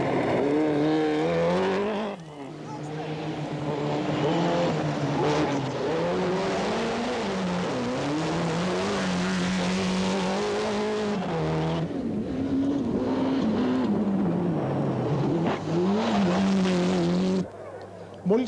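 Rally cars from the 1994 Acropolis Rally, heard from the driver's seat, with a loud engine roaring and revving continuously throughout, pitch rising and falling through gear changes, with brief dips.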